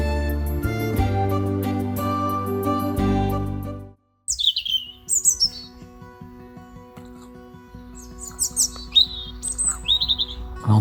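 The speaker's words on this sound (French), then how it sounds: "On entend un joli chant d'oiseau." A European robin sings on a woodland pilgrimage path toward Mont Saint-Michel, its thin, high warbling phrases repeating in bursts after louder low-pitched music fades out, fairly close and clear above a quiet background.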